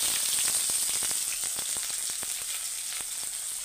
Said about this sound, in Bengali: এখন আমি এইখানে দিয়ে দিব পেঁয়াজ কুচিগুলো।